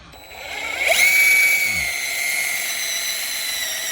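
A power drill spins a wood splitting drill bit into a log, whining up quickly to a high, steady tone that holds and fades slightly as the bit bores in, close by with no talk.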